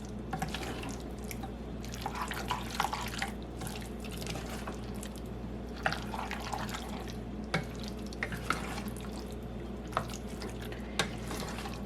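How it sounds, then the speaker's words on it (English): Drained food is stirred in a kitchen pot to coat it, making repeated wet, sticky clicks and small splashes in an uneven rhythm, close and fairly quiet, over a steady low background hum. "Now we're just going to stir this up until they're good and coated"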